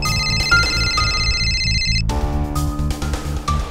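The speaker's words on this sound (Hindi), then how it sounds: "कानपुर से शांतनु का फोन था।" A telephone rings in a Hindi crime drama scene with a repeating electronic ringtone of bright pulsing tones, heard over a low, rhythmic background score that continues throughout.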